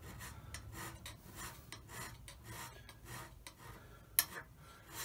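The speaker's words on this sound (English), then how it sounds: "I've just swapped the cutting tip round using fresh face" A Holbrook lathe cuts with a freshly turned, sharp cutting tip, giving a faint rhythmic scraping rasp in repeated strokes, with one sharp click near the end.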